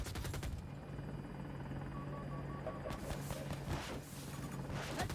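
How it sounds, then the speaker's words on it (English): Jet roar in the Battlefield 2042 video game sweeps over a dense backdrop of gunfire and battle noise, a loud sustained rushing swell with a steady engine hum throughout. "There's a jet coming."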